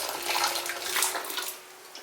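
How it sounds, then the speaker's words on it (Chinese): Boiling water poured from a kettle into a large bowl over scored, cleaned tomatoes, a close steady splashing gush that tapers off near the end. "加入开水浸泡一下，等会比较好去皮"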